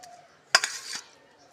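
Rice is mixed with chicken curry on a plate, heard as a brief clatter of fingers or utensil against the dish followed by soft squishing, close and short.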